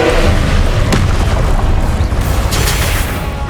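Confringo blasting spell explosions during a Pensieve Guardian boss fight in Hogwarts Legacy: loud, heavy booming blasts with deep rumble and crackling debris, continuous and close with a sharp burst near the start.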